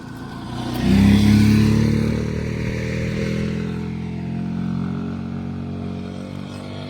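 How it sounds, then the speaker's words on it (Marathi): A motorcycle engine rumbles up close and loud at a dangerous bend on a state highway, then drones on steadily as it passes along the road, slowly fading. "तो बघा ही पण बाईक येते"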